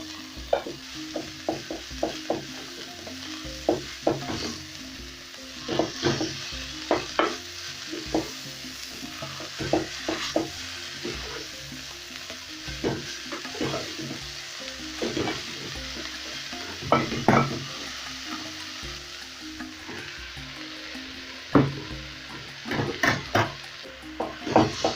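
Greens stirred and fried in a pan for a creamy greens dish: a steady sizzle runs underneath repeated close scraping and stirring knocks of a utensil against the pan, with no talking.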